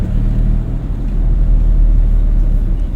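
A car engine pulls away during a driving lesson in a driving school car: a steady, loud low rumble that holds level throughout, with no talking.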